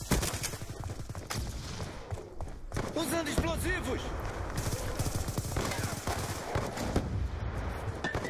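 Rapid gunfire rattles in a first-person shooter video game, with dense bursts of shots and sharp cracks packed closely together for the full eight seconds, under an active, noisy battle.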